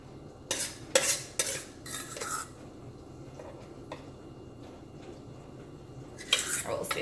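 Keto donut batter spread around a donut pan, with a handful of scraping and tapping clinks from a utensil against the pan, clustered at the start and again near the end over a quiet background.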